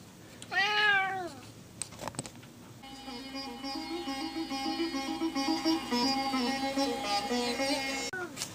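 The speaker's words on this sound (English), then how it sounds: "and a kitty cat" A pet cat gives one clear, rising-and-falling meow up close, then after a short pause lets out a longer, drawn-out wavering meow indoors in a quiet room.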